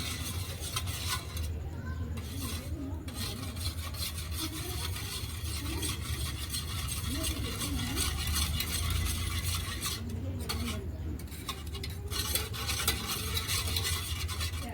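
Coriander powder and turmeric are stirred into Punjabi village-style kadhi in a hot pan, with a continuous loud scraping and sizzling texture throughout and brief lulls between strokes.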